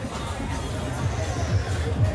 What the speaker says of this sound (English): We're moving through the crowd.